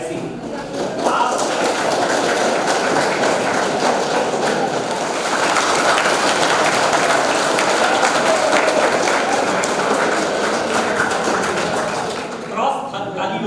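An audience in a college lecture hall claps hands together in a dense, sustained burst that lasts about twelve seconds before stopping abruptly, with voices under it.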